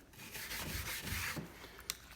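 A brush scrubs chemical stripper along the polyurethane-coated grooves of shiplap boards in quick, close, dense back-and-forth strokes, ending with a small tap.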